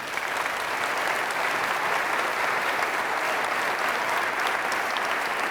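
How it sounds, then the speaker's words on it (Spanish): An audience at a church consecration applauds in a steady, even wash of clapping that holds at constant loudness for the whole stretch, with no speech over it. "Denle un aplauso a ella,"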